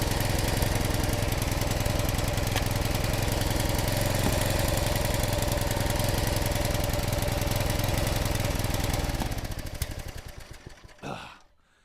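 A small engine chugs steadily at half throttle while splitting oak firewood, a close, loud rhythmic putter that sputters and dies away near the end.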